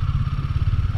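A motorcycle engine runs close by with a low, rhythmic chugging pulse on the way from Hampi to Goa, steady and loud throughout, with a faint mechanical clatter on top.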